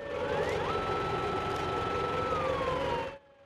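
Sirens wail together for a memorial moment of silence at a seaside gathering of thousands on the Caddebostan shore, a loud sustained tone with slow pitch slides, cutting off abruptly near the end.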